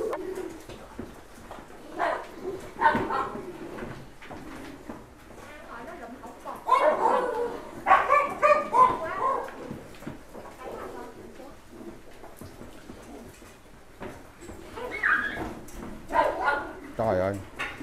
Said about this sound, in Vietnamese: chưa bao giờ thấy đàn chó nào mà ăn mà kiểu háo ăn kiểu này